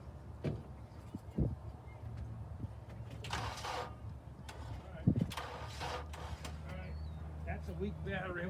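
A car engine with a weak battery cranks over in a few short, sluggish bursts, fairly quiet and muffled, while a person talks nearby.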